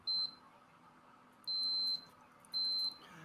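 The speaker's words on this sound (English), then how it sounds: "Can you hear my multimeter beeping?" Three sharp, high electronic beeps from a multimeter during continuity testing, spaced about a second apart with the last two longer, clear and close over a quiet room.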